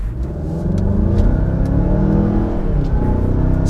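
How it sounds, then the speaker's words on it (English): A 2020 Mazda CX-9 pulls away from a standstill in automatic mode, its engine droning louder and rising in pitch through a slow gear change, heard from inside the cabin with steady road noise. "I'm just gonna keep that in auto and let's just see how it goes off the line."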